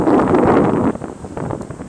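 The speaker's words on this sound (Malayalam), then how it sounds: "നല്ല കാറ്റടിക്കുന്നുണ്ട്." Strong wind buffets the microphone in a loud, roaring gust that eases slightly partway through, then keeps blowing unevenly.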